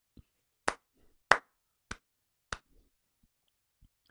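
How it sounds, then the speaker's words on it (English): A single person claps hands slowly, five sharp separate claps spaced about half a second to a second apart, close and crisp against near silence. "let me give you one more last clap"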